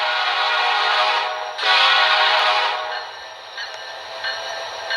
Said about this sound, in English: the next one has a special type of locomotive